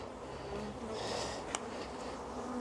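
Honey bees buzz steadily around an open, queenless hive while a frame is being handled, a dense low drone filling the whole stretch with one brief sharp tap partway through.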